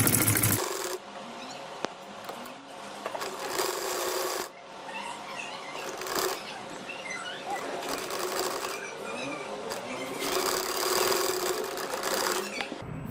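Sewing machine running in bursts as it stitches a baby boy's shirt, with short pauses between runs of steady whirring and clatter, close and moderately loud.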